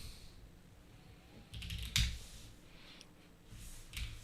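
Typing on a computer keyboard on the Monkeytype typing website, a few quiet bursts of key clicks with one sharper clack, faint and close, with no voices.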